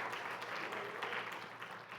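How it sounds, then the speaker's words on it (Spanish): A church congregation claps together in steady, sustained applause, distant and soft, with a dense even patter of many hands and no speech over it. "Denle su ofrenda de palmas al Señor."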